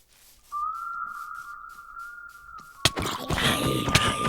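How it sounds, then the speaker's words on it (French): A sustained whistled tone from the Sirenhead horror video game holds steady for about two seconds, then gives way to a sudden loud burst of noisy, clattering game sounds. "Il y a encore le sifflement de Aladdin."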